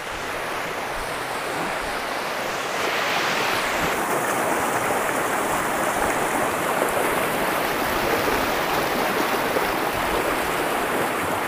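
Roaring current of the clear Torsa river flowing from Bhutan into India over a rocky bed, a loud steady rushing wash that swells slightly and stays constant, with no talk.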